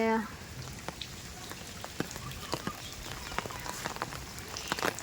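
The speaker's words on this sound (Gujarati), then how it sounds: "વરસાદ શરૂ છે" Steady rain falling outdoors on a windy day, a continuous close patter with scattered sharper drops striking nearby surfaces, constant throughout with no talking.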